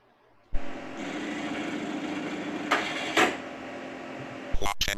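A printer runs with a continuous whirring mechanical drone, kicking in sharply after a short quiet start, with two brief louder bursts in the middle and clunks near the end.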